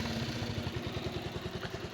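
A Bajaj Pulsar motorcycle engine runs nearby at a steady idle with a rapid, even putter of firing pulses, heard alone and fairly quiet.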